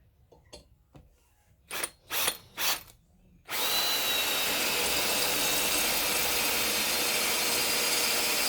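A few short trigger bursts from a small drill, then a loud, continuous high whine as it bores steadily through a greasy trailer hitch extension, close up with no talk.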